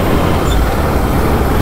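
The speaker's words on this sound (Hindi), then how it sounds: "तो यहाँ भी इतना ट्रैफिक हो रखा है" Road traffic noise surrounds a Himalayan 450 motorcycle ride through congested streets, a steady broadband rumble of engines and tyres that holds close and loud throughout, with no voice over it.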